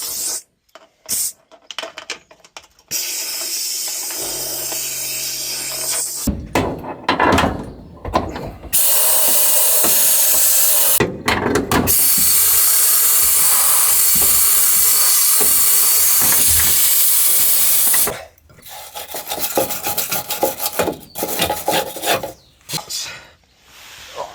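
Compressed air blows debris out of a vehicle's rear tub cavity before masking and spraying. A loud, rough, continuous rushing blast is broken by short pauses and scraping, then tails off into clattery handling noise.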